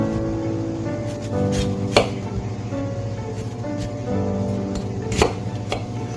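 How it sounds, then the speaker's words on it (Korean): Knife slicing peeled peaches into bite-size pieces on a cutting board, with a few sharp taps against the board over a quiet kitchen hum. "복숭아는요, 먹고 좋은 크기로 썰어주시면 돼요"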